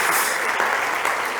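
Audience at a startup competition stage applauds presenter Omar, brief dense clapping heard close and steady throughout.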